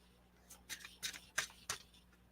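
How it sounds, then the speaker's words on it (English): A deck of affirmation cards is shuffled slowly, giving five or six soft, papery riffles at uneven intervals. Each riffle is faint and close, and there is no voice. "And I'm shuffling a little slower because they're all coming out anyway."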